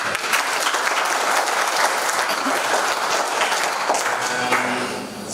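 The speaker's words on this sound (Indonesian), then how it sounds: "Kita tepukan untuk mereka." An audience at an oil and gas closing ceremony in Teluk Bintuni Regency, Indonesia, breaks into loud, sustained applause, a thick continuous patter of many hands clapping throughout.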